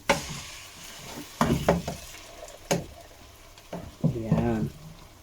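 Tomato sauce sizzling and frying in a pan with ground pork while making spaghetti, with scattered stirring knocks and scrapes and a brief voice near the end.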